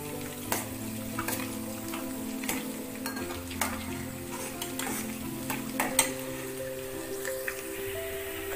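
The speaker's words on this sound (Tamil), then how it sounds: "கொஞ்ச நேரம் நல்லா வதங்கட்டுங்க." Small onions and garlic sautéing in oil with fenugreek, a steady close sizzle broken by repeated sharp scrapes and taps of a spoon stirring the pan, without talk.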